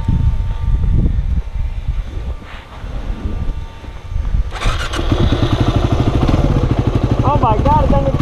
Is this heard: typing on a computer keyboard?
no